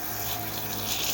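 Water spraying steadily while de-icing a cold room's compressor, a continuous close hiss of wet spray with no pauses.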